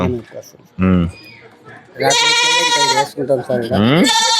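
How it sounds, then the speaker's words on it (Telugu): About 40 goats bleat loudly and close by, with several long, wavering cries in quick succession. "ఎన్ని మేకలు ఉన్నాయి? 40 మేకలా?"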